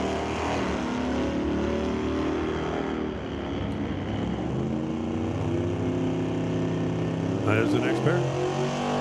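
Drag race cars, one a small Audi, launching and blasting down the strip at an NHRA Northwest National Open test-and-tune session on a brisk 54-degree day, with loud sustained engine drone under an announcer talking over a PA.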